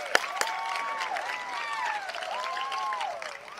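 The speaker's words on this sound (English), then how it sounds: "let's first just have a round of applause for being able to do this" An outdoor Founder's Day 2021 gathering breaks into a round of applause, continuous clapping from a large group with a few voices and whistle-like tones over it, steady and moderately loud.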